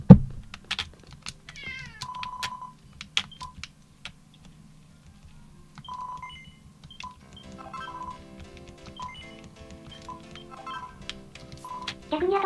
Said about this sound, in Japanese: にゃんこの声がにゃおん。